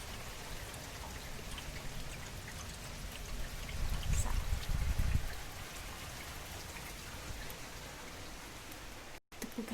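Steady rain falls outdoors on a windy day, a dense even patter with a louder gusty swell midway, heard from nearby with no talking.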